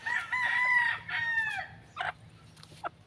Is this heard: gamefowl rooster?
yes